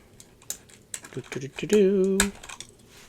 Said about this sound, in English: Let's go ahead and pull off one of these keycaps.